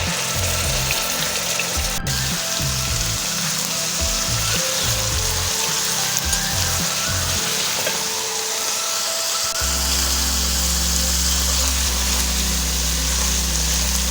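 Onion paste with black cardamom, cloves, cinnamon and black peppercorns sizzles steadily in a pot, a continuous loud frying hiss with occasional stirring scrapes, growing denser and steadier near the end.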